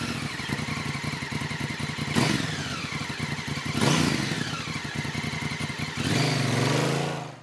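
A 2005 KTM 450 EXC snow bike engine revs loudly and close, with a steady throbbing idle broken by three sharp throttle blips rising and falling, the last one swelling into a sustained higher rev.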